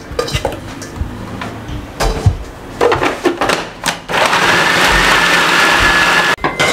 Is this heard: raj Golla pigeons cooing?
no